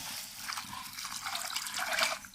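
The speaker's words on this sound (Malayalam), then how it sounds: "കുറച്ച് വെള്ളം ഒഴിച്ചു കൊടുക്കാം" Water is poured into a pot of green peas set to cook, a soft close splashing trickle that swells toward the end of the short pour.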